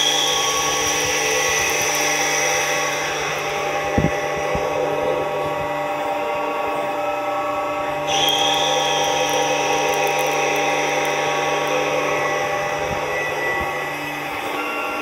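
A Tormach CNC mill runs with its spindle turning while facing a blank, giving a steady whirring machine drone with a constant cutting hiss and one brief knock partway through, loud and continuous with no talk.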